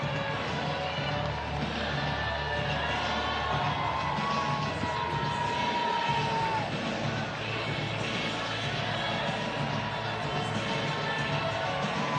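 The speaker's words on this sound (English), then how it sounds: "let's cheer loud enough for those guys to hear at home watching on the broadcast" A crowd at a Savannah Bananas baseball game in Sacramento keeps up a steady roar of cheering and crowd noise, with distant announcer talk mixed into the broad, continuous din throughout.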